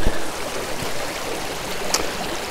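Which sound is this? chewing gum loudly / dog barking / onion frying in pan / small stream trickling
small stream trickling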